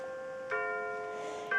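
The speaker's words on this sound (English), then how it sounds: "here we go with my chime" A ringing chime sounds as two tuned strikes about a second apart, each layering sustained harmonic tones over a soft, steady background hum; no one speaks over it.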